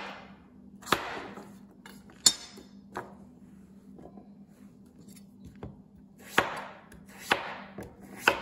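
Knife chopping onion on a cutting board in a kitchen, several sharp, sparse cuts spaced irregularly, fairly close over a faint steady hum.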